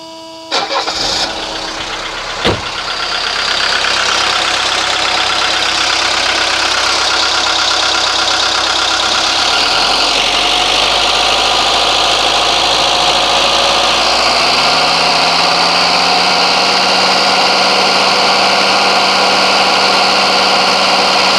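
A 1983 Mercedes 240D diesel engine cranks briefly, catches and settles into a loud, steady, clattering idle close by, continuing alone without talk.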